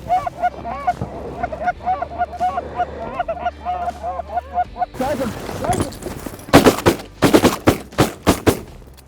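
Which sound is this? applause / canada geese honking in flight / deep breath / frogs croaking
canada geese honking in flight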